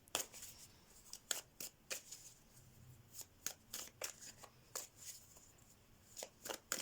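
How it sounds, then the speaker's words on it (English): Tarot cards being shuffled and drawn, a steady run of quick crisp riffles and slaps repeating about every half second, close but soft, with no voice over them. "Let me get more cards."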